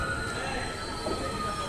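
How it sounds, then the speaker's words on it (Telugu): A train rumbles and hums at Nagarsol railway station in a short, steady stretch of rolling rail noise with faint squeal tones, heard at moderate distance without talk. "Nagarsol railway station."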